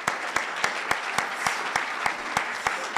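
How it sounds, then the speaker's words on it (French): An audience applauds steadily at the Trophées de l'Impact 2024 awards ceremony. A dense, even wash of clapping is punctuated by a few sharper individual claps, with no talk over it. "on peut l'applaudir effectivement"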